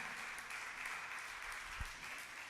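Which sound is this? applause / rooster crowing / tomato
applause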